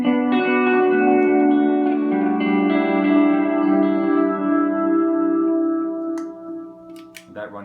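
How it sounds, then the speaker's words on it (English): An electric guitar runs through effects into a Fender Blues DeVille amp, with sustained chords washed in reverb and echo that ring for several seconds and slowly decay, ending with a few faint clicks. "I run the effects, for the most part, through a Fender Blues DeVille."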